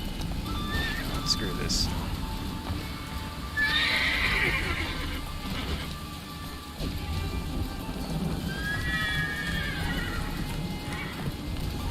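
A horse in The Witcher 3 game world gallops with steady clip-clop hoofbeats and gives several loud neighs and whinnies over light rain. Someone talks over the sounds.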